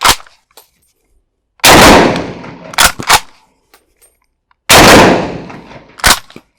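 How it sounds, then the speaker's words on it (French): A Swiss straight-pull rifle is fired outdoors, with loud, sharp close gunshots spaced seconds apart, each trailed by a short echoing decay, and quick metallic clacks of the bolt being cycled in between. "les 12 coups ont été tirés, l'arme fonctionne parfaitement"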